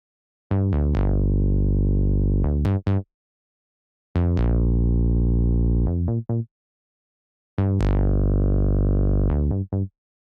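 Buzzy synth bass from Purity's saw envelope preset playing three separate phrases, each a run of punchy sawtooth notes with a bright attack that settles into a held tone, separated by silence.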